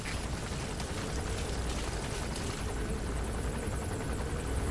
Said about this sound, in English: What to do about the helicopter?